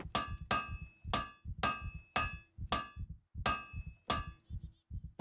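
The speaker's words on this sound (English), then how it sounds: "Now let's hammer out." Metal hammering in a survival video game while scrap metal is crafted into arrow tips: eight sharp, ringing strikes at an even pace, each followed by a short rattle, loud and isolated.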